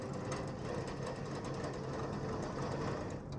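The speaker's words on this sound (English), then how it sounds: "I make an addition of whipping cream here, and I would like to beat that until the cream is very firm" An electric mixer whirs steadily as it beats whipping cream until firm, a dense, even mechanical drone with a faint rhythmic rattle, close and alone without talk for a few seconds.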